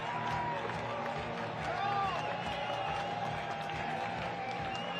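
Soccer crowd at a stadium in Providence cheering during a U.S. Open Cup match between New England Revolution and Chicago Fire, a steady wash of crowd noise and applause with whistles and shouts rising above it.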